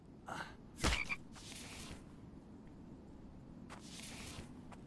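Frog croaking in the survival video game The Infected, a few short throaty croaks at low volume with a sharper thump near the start.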